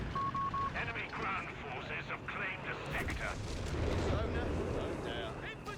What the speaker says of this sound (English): Even artillery barraging here.